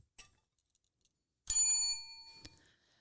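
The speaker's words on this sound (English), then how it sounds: "I accidentally hit my bell." Small desk bell struck by accident, a faint tap followed by one bright ringing ding that decays over about a second, then a light click, in an otherwise quiet room.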